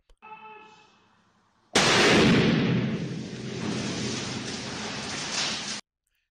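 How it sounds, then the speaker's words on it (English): Explosive hydroforming of a steel sphere: after a faint lead-in, a sudden loud blast erupts and gives way to a sustained roaring, rushing burst that lasts several seconds before cutting off into silence. "playing this clip of a steel sphere being explosively hydroformed"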